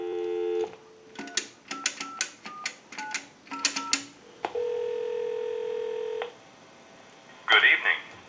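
A payphone: a rapid series of touch-tone beeps as a number is dialed, followed by a sustained tone, silence, then a brief burst of line noise.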